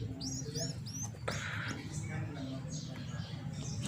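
A Galansyang bird chick gives several thin, high chirps in quick succession at close range, with people talking over and around the calls.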